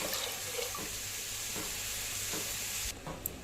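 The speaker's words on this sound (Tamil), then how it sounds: "இப்போ இந்த டம்ளரில் ஒரு டம்ளர் தேங்காய் பால் ஊற்றிக்கலாங்க திக்கான தேங்காய் பால்" Thick coconut milk is poured from a tumbler into a cooking pot, making a steady liquid splashing and trickling sound that runs for about three seconds before stopping, close by with no talking.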